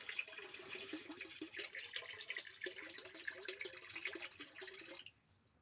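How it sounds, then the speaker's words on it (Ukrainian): Liquid fertilizer pours steadily into a plastic bottle half full of water, feeding cauliflower, a continuous close trickling and splashing that runs for about five seconds and then stops abruptly. "Так, і пів бутилки якось так приблизно треба налити."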